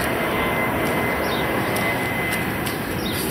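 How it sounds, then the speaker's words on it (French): An airliner from Roissy airport passes low, around 200 metres overhead, making a loud, continuous broad roar that fills the whole stretch without letting up. "avec les avions de Roissy qui passent à 200 mètres au-dessus"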